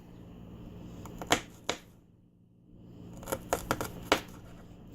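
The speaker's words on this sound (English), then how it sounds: "So I'm just going to sit here, cut them into about 8-inch slices." A kitchen knife slicing an onion for homemade guacamole, a few crisp cuts against a cutting board in two short bursts separated by a quiet pause, close and faint.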